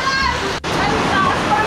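Floodwater from the street flows in during Typhoon Rolly, a close continuous rush and slosh of water with a brief break in the middle of the sound.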